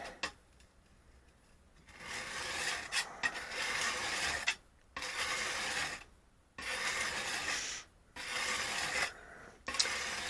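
A wood chisel is rubbed back and forth on a 400 grit sharpening block, making a rasping scrape in several long strokes with brief pauses, close and fairly quiet.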